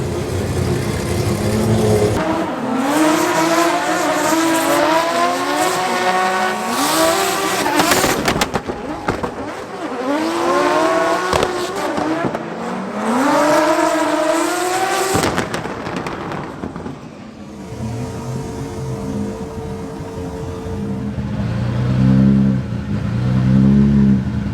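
A drift car at a Ferropolis drift event revs hard in repeated rising and falling sweeps, loud and close, with a rougher, noisier stretch toward the end.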